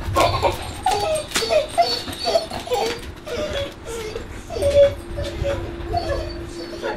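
A dog whimpers and whines in short, repeated high cries across a noisy workshop where Subaru WRX body conversion work is under way, with a steady background hum and some clatter.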